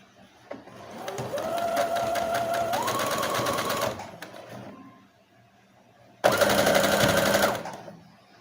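A sewing machine runs a straight stitch across fabric with lace while making a cloth doll, with two bursts of steady, loud motor hum and needle rattle separated by a quiet pause.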